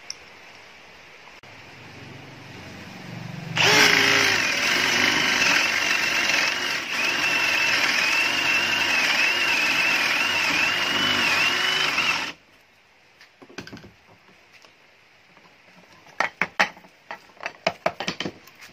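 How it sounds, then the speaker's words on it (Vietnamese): A Milwaukee M18 cordless drill drives a 50mm hole saw into wood, a loud steady grinding whir lasting about eight seconds before cutting off abruptly, followed by quieter clatter and a few sharp knocks. "Tiếp theo thì Tùng Dâu sẽ test khả năng khoét gỗ"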